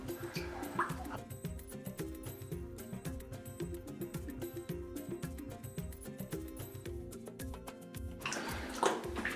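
Sloshing and splashing of someone wading through about three feet of water inside an old flooded mine, steady close churning with irregular splashes, a few louder surges near the start and end, echoing faintly.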